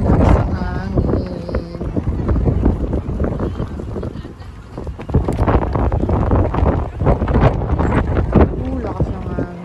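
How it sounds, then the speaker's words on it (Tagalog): Strong wind buffeting the microphone at a riverside festival on the Han River in South Korea, a constant loud roar with people chatting over it. "Guys, ang lakas ng hangin."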